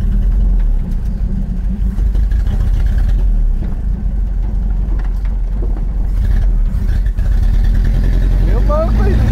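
Chevrolet Opala revving hard and sliding, a loud continuous engine roar with wheel noise, while people in the car talk and shout over it.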